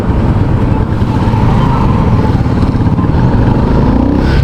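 Rusi Macho TC150 motorcycle being ridden, a loud, close, continuous engine drone with road and wind rush throughout and no voices.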